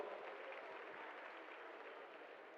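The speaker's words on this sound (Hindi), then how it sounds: "so can we please give them a big round of applause" An audience at a live telecast event in Rishikesh gives a round of applause, a continuous, even wash of many hands clapping, somewhat distant and soft, holding steady throughout.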